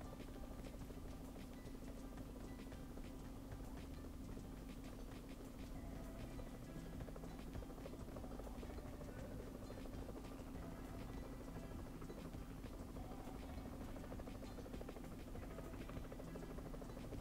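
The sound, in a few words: helicopter in PUBG Mobile Metro Royale video game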